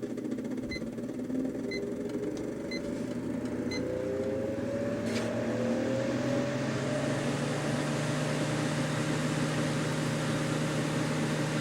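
Older vintage ceramic space heater running on high, its fan producing a steady broadband whoosh with a low electrical hum and a faint tonal whine, constant and close throughout, with no talking.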